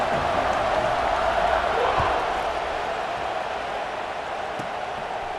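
Stadium crowd in the EA Sports College Football 26 video game, a broad steady roar of many voices that swells slightly early on and then settles into a constant hum.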